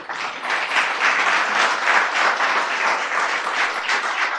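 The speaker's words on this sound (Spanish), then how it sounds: "Den un aplauso al Señor." A church congregation applauds at a Christian celebration service, with dense, steady clapping sustained loud and close throughout, with no voices standing out.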